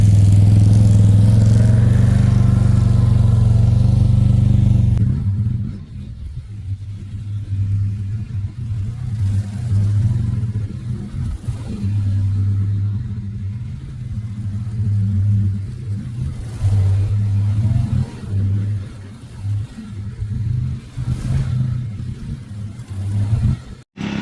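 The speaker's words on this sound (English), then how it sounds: "I like that Can-Am." A Can-Am off-road vehicle out on an old horse pasture, its engine roaring loudly and then settling into a steady, uneven rumble with surges of revving for twenty-odd seconds, close by and with no talking.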